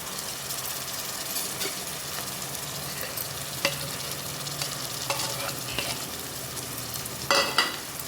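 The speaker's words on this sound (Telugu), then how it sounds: "ఉల్లిపాయలు అనేది ఇలా వేగాక దీనిలోకి మనం ప్రిపేర్ చేసి పెట్టుకున్న ఈ మసాలా మొత్తం వేసేసుకోవాలి" Onions fry in a pan for a spicy country chicken curry as prepared spice masala is tipped in and stirred, producing a steady sizzle with repeated scraping stirs and occasional clatters of the spoon against the pan.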